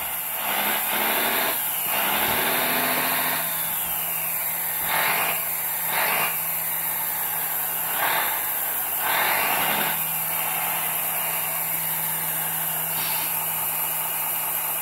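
A small engine on a radio-controlled hydraulic excavator hums steadily throughout with a high whine, while repeated hydraulic whirs and mechanical strains rise and fall over it, close and fairly loud.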